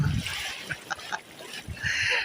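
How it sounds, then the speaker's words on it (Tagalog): Wind-stirred sea water sloshes and splashes in uneven surges close by, while a person talks over it. "Dala lang po yan sa hangin kaya gumagalaw po ang dagat"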